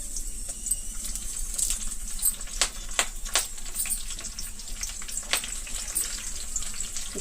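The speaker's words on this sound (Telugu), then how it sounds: "ఫస్ట్ కరివేపాకు వేద్దాం, ఎందుకంటే కరివేపాకు వేగడానికి ఎక్కువ టైం పడుతుంది కాబట్టి." Curry leaves sizzle and crackle steadily in hot oil for a potato and carrot fry, a dense close hiss broken by sharper pops throughout, with no talking.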